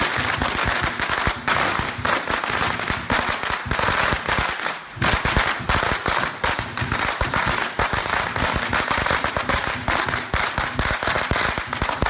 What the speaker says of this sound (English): we're welcomed by loud bangs from fireworks.